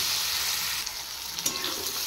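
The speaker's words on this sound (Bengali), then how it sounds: "এবার কেটে রাখা মাশরুমগুলো ফ্রাই করে নেব। সামান্য নুন হলুদ দিয়ে ফ্রাই করে নিচ্ছি।" Mushrooms fry in a pan with a little salt and turmeric, giving a steady, close, bright sizzle with a few soft stirring scrapes and no voices.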